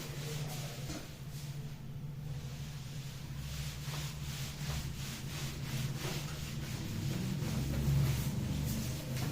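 A board is wiped clean of writing with repeated rough rubbing strokes, a steady scrubbing swish over a low background hum, close and fairly loud, with no speech.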